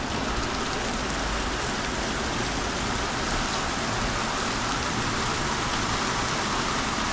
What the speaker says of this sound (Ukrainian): Не знаю, чи видно, чи ні, якийсь дощик класний.